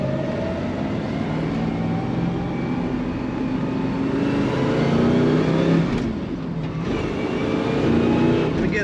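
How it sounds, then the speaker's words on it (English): A 1969 Chevrolet Biscayne two-door sedan with a 427 L72 V8 accelerates hard from inside the car, a loud sustained rumbling engine roar with rising tones, briefly dipping as it shifts, then pulling again. "And again, there's that acceleration."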